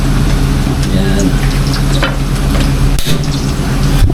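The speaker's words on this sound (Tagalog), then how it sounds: "Kasi piprito tayo na yan o." Pork belly (liempo) frying in a hot pan at home, a steady loud sizzle and crackle with occasional scrapes and clinks of utensils throughout.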